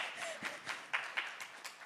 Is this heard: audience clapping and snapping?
yes